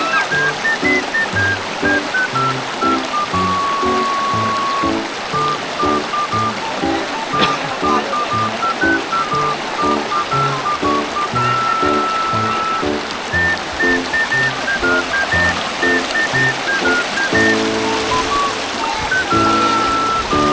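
Flowing river water at Canding Falls in Tarlac, a steady, dense rushing and babbling that runs without a break, close and fairly loud, with faint musical tones underneath and no talking.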